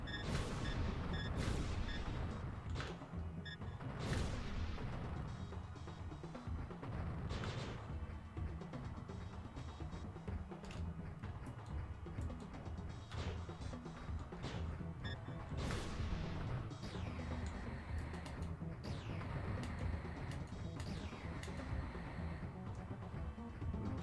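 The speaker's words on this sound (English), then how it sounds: "Someone's firing at something out here." Gunfire and booms from a retro video game form a dense, continuous barrage of sharp shots and crashes throughout, with no talking.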